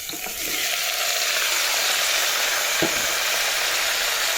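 Chicken pieces drop into hot oil in a pan and sizzle loudly and steadily, a broad continuous hiss with a brief clunk partway through.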